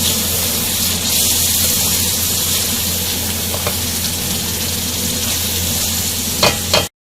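Chicken karahi masala with long-cut green chillies sizzles and fries steadily in oil in a pan, a close, continuous crackling hiss with a few sharper pops near the end before it cuts off.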